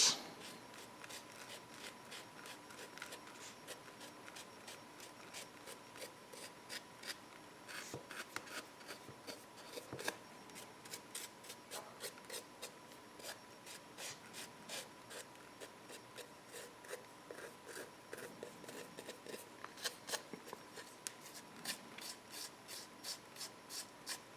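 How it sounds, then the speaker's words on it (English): Excess static grass flock shaken off a miniature model, a dense run of soft dry rustling and rattling taps repeating steadily and close by for the whole stretch, with no talking. "shaking off the flock here"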